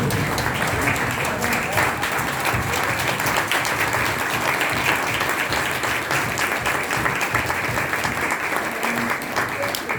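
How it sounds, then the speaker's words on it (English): A standing audience applauds steadily at a panel conversation event, a dense, sustained wash of clapping that holds at an even level throughout, with some voices mixed in. "can we give them a stand up round of applause?"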